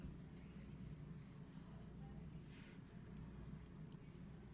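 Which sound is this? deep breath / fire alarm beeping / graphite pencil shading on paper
graphite pencil shading on paper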